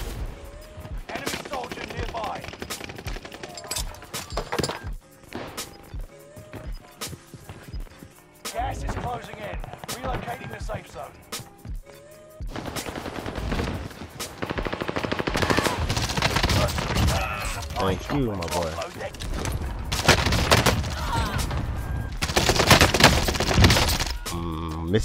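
Rapid bursts of PPSh-41 submachine gun fire in a shooter video game, loud crackling automatic volleys with impacts and breaking sounds, starting sparse and growing dense, with a player talking over parts of it.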